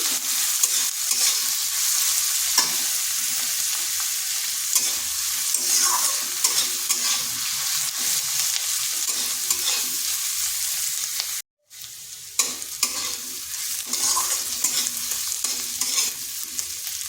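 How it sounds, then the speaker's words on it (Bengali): Thinly sliced garlic sizzles and crackles steadily in a hot pan, with occasional stirring scrapes, close and continuous, no talking. "রসুনটাকে এইভাবে সরু সরু কেটে নিচ্ছি এগুলোকে হালকা একটু ভেজে নিচ্ছি"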